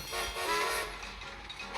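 A long cargo train rolls along in the Train Conductor World video game, a faint, steady rumble of wagons with a soft horn-like tone near the start.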